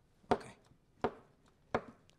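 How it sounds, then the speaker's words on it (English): A knife slicing a banana thinly on a cutting board, three crisp, evenly spaced chops close by with quiet gaps between them and no talk. "I'm going to chop a banana."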